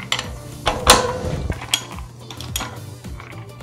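A bicycle sprocket being threaded on and hand-tightened during a rebuild gives off a few close metallic clicks and ratcheting scrapes, sporadic and moderately loud, with no talk.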